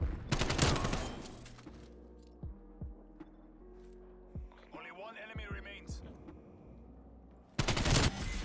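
Bursts of automatic gunfire from a Call of Duty Cold War match, a loud rapid volley at the start, scattered single shots and game sounds in between, and another burst at the end.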